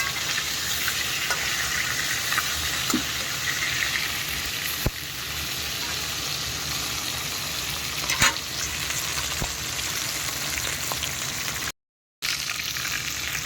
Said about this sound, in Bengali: মাছ ভাজা হয়ে গেছে, উল্টে দেবো।